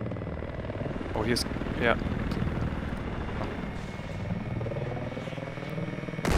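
A drone in Battlefield flies on the Guilin Peaks map with a steady whirring propeller drone that runs throughout, while someone talks briefly over it.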